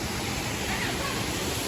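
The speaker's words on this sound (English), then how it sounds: "Okay, the waterfall is over there." A small waterfall at Wailoku in Fiji gives a constant, fairly loud rushing hiss of water close by, with no other distinct sounds over it.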